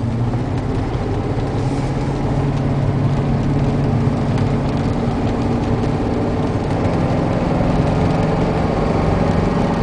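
A 2002 Chevy 3500 utility-body truck engine with a misfire runs steadily at a loud, close idle, a continuous low rumble with a rough, uneven pulse throughout and no talking.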